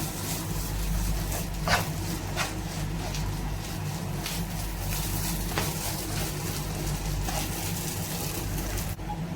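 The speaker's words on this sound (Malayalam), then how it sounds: "ഈ സമയത്ത് നമുക്ക് കറിവേപ്പില ചേർത്ത് കൊടുക്കാം. നന്നായിട്ട് ഇളക്കി ചേർക്കാം." Curry leaves stirred into a sizzling clam roast in a pan, a steady frying hiss with scraping stir strokes and occasional sharp crackles, close and continuous.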